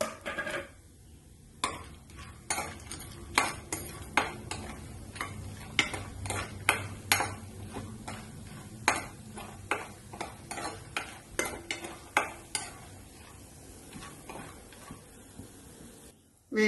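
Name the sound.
frying vadiyalu (sun-dried fritters) in hot oil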